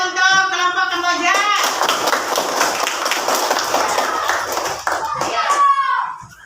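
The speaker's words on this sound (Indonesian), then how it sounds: "Tepuk tangan untuk kelompok Kamboja." A class of children claps for a student group about to present in a classroom, a brisk burst of close clapping lasting a few seconds, with children's voices heard just before and after.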